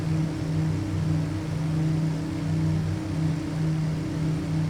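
Twin piston engines of a Just Flight Dove aircraft in a flight simulator, throttled back for the climb: a steady, droning hum with a low throbbing pulse, constant and unbroken, with no talking.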